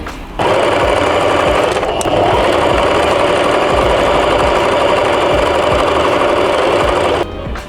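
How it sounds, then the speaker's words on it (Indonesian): A sewing machine runs steadily for about seven seconds, stitching a half-centimetre seam on a fabric bunny bag, a close, even mechanical whirr that starts and stops abruptly. "kita jahit sekitar setengah sentimeter pada bagian ini, lalu sampingnya juga ya teman-teman"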